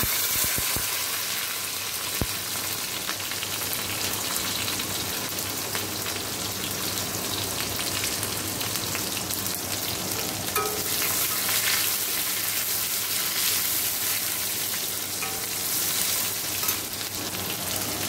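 Ginger and tomato fry in a pan over a tempering of cumin seeds and dried red chili, a steady dense sizzle running throughout, close and even, with occasional stirring scrapes.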